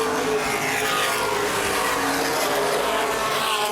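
Late model race cars roar around the Baer Field Speedway oval, a loud, continuous blend of engines battling closely with no break in the noise.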